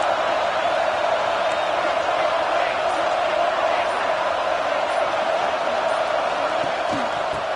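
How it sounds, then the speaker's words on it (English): A stadium crowd in the NCAA 26 college football video game roars steadily throughout, a dense, loud wash of cheering with a commentator talking over it. "this crowd coming to life here, trying to help the defense get a stop"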